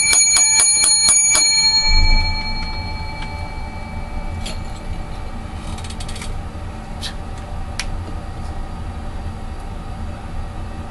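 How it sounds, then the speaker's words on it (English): A cluster of bells rings brightly and loudly for about two seconds with sustained metallic tones, then stops, leaving a low rumbling background. "Seven lucky bells."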